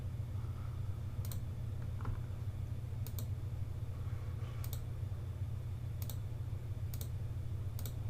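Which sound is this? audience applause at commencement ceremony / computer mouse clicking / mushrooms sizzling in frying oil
computer mouse clicking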